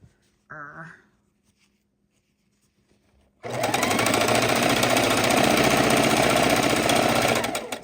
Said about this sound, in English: The sewing machine's walking towards me.